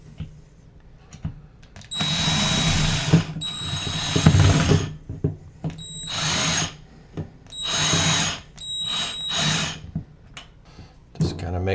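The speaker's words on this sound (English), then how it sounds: "you can just put your screws in here" A handheld power drill drives screws to mount a hat rack on a wall, whirring in several loud bursts of a few seconds each, separated by short quiet pauses.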